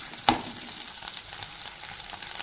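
Food fries in a pan while cooking matar paneer, a soft steady sizzle under a sharp clatter near the start and a few faint stirring scrapes afterward.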